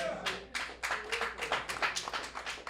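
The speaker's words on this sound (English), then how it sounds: "clap for that shit, man" Scattered audience clapping at a stand-up comedy show, a run of sharp, uneven claps building into a loose round of applause, fairly close and moderately quiet, with no talk over it.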